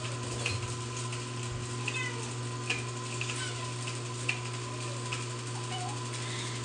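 Several house cats give faint, sparse meows over a steady electrical hum indoors, with a few soft ticks and taps between the calls.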